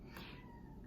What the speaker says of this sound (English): That is my cat screaming for attention.